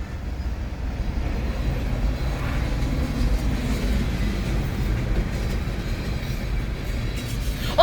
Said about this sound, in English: Oh, there's 3 trains.